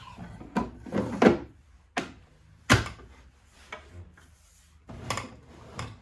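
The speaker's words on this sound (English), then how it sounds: "So that's the secretaire drawer." Secret secretaire drawer of a Victorian campaign chest being moved, giving a series of wooden knocks, rubs and thunks in irregular bursts, close and moderately loud with no talking.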